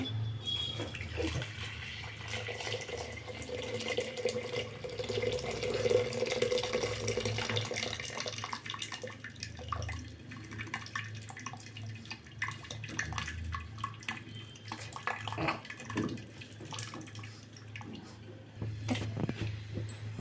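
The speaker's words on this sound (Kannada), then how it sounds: "ಹುರುಳಿಕಾಳು ಬೆಂದಿದ್ದ ನೀರೆಲ್ಲ ನಾನು ಈ ಮಡಕೆಗೆ ಹಾಕ್ಕೊಳ್ತಾ ಇದ್ದೀನಿ" Cooking water from boiled horse gram is poured into a clay pot in a village kitchen, a continuous splashing, gurgling flow with soft clinks, fairly close and steady throughout.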